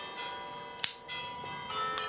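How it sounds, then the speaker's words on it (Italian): Church bells ring faintly in the distance, a soft sustained tolling with a brief sharp click partway through, outdoors during summer pruning of a trident maple. "Basta con le campane, per favore"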